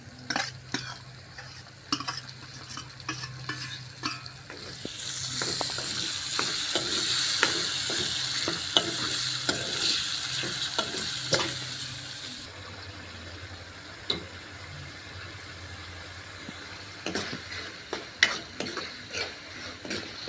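Onions with turmeric frying in a pan for whole-potato curry, a steady loud sizzle with frequent spoon scrapes and taps that swells in the middle and then settles into a quieter hiss with occasional stirs.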